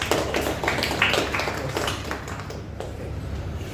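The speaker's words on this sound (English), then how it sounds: "So let us give a big round of applause for the test." Applause from an audience at a Toastmasters-style club meeting: steady, dense clapping at moderate level that gradually thins and softens toward the end.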